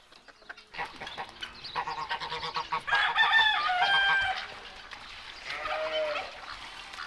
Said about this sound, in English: putting out some grain for the ducks and geese